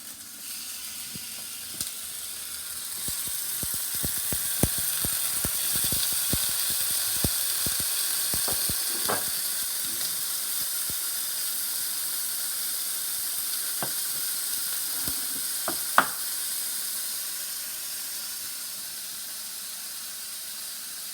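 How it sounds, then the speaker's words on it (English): Ham and eggs fry in a pan with a steady, close, hissing sizzle throughout, broken by scattered sharp pops and crackles of spattering fat. "we're gonna fry this up. Fry us a couple of eggs"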